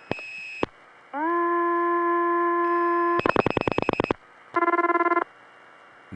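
Telephone line tones on a 1976 life insurance company PBX tie-line after dialing 9: a short tone, a long steady tone, a fast train of pulsed ring bursts, then a shorter pulsed tone, clear and close with no talking.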